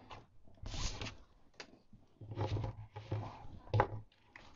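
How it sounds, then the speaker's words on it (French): A scoring tool drawn along paper to mark fold lines for a small Stampin' Up gift box, giving several short, dry scraping strokes with brief pauses between them, close and fairly quiet. "Il ne me reste plus qu'à marquer toutes mes lignes de plis."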